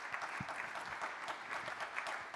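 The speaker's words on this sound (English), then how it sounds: "Let's give them a warm round of applause." A conference audience at a Paris finance forum plenary session gives a brief, warm round of applause, a soft steady spread of many hands clapping heard from a distance.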